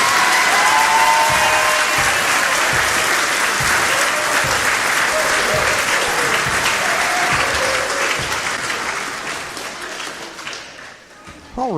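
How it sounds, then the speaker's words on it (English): Crowd applause in a school gym honoring graduating seniors before a varsity basketball game, ABS vs Waterloo; loud, sustained clapping with scattered shouts and squeaks, fading over the last few seconds. "One more applause for our graduating seniors."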